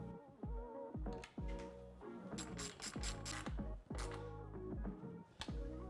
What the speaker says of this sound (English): we're going to use a 4mm Allen and a 10mm combo wrench to tighten down all of the hardware